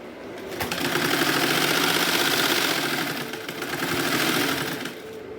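A sewing machine stitches fabric piping for a doll dress with a steady, close, loud mechanical whir that pauses briefly before running on.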